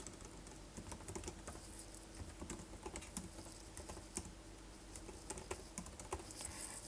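Someone types a command on a computer keyboard in a Metasploit exploitation session. The keystrokes are quick, light and irregular, with no voice over them.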